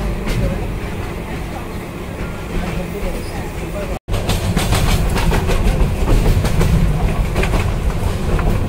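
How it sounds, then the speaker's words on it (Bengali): Tista Express intercity train runs on the tracks on a rainy journey, a loud, steady roar with clattering wheel rhythm heard from inside, broken by a brief cut midway. "আন্তনগর তিস্তা এক্সপ্রেস ময়মনসিংহ জংশন ছেড়ে গেল বিকাল 5টা 35 মিনিটে।"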